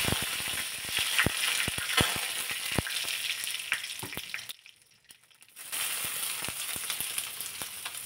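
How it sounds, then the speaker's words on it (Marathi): Mustard seeds, cumin and curry leaves sizzle and crackle steadily in hot oil in a pan, a loud, close frying hiss with small pops that briefly dies down partway through before returning. "तेल चांगलं तापल्यानंतर त्यामध्ये मोहरी घातली, जिरे घातले आणि नंतर घातलेला आहे कढीपत्ता."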